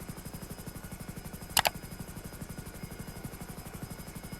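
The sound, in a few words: Hunter military helicopter flying in video game GTA 5 Online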